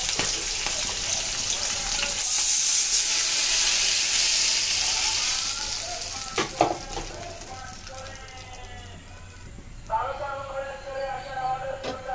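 Green chillies fry in hot oil for a hilsa fish dish, a steady sizzling hiss that fades as stirring clatters in, with a voice talking over the cooking.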